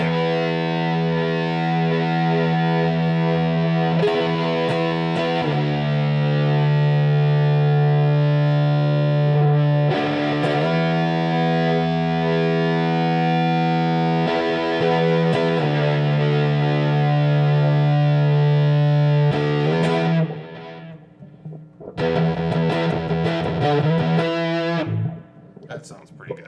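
Electric guitar played through a Black Arts Toneworks Priestess fuzz pedal, with loud sustained distorted chords ringing out, a brief pause and choppier strums near the end.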